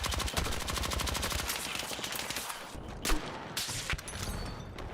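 Rapid automatic fire from the PW5 in Battlefield 6, a low-recoil gun, rattles in steady bursts up close, broken by brief pauses and a few sharper single reports near the end.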